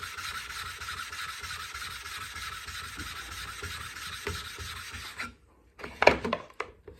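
A steel chisel is rubbed back and forth on a flattening stone while being sharpened, a steady close rasping scrape that runs for about five seconds, then stops, followed by a few brief knocks and handling noises.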